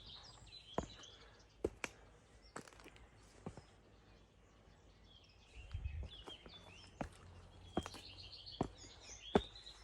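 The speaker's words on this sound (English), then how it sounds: "you hear the birds" Birds in the Italian countryside, heard as faint, scattered high chirps and calls over a quiet outdoor background with a few soft knocks.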